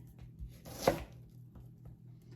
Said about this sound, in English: Again, we love onions. This is probably all I'm going to chop up though.